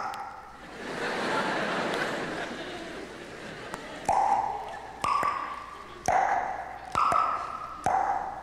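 Ping pong ball bouncing, five crisp ringing pings about a second apart, each clear and fairly close, following a stretch of soft noisy rustle at the start.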